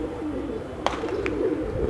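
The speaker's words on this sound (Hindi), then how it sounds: "हम लोगों का ये न्यू कबूतर" A newly acquired Kanak pigeon coos softly and close by against a low background hum, with a couple of short sharp clicks partway through.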